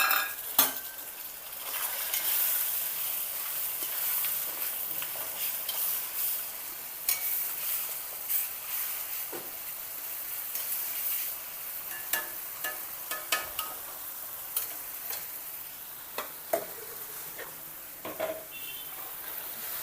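Curry leaves and ginger garlic paste frying in a pan, a steady sizzle under intermittent scrapes and clinks of a spoon stirring against the metal, close and continuous.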